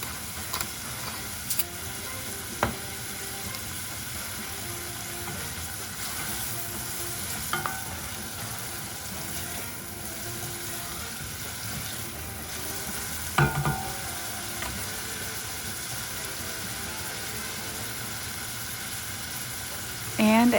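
Salted and peppered onions cook down in a pan with a steady, close sizzle. Occasional utensil clicks and stirring knocks cut through, and a voice talks over parts of it.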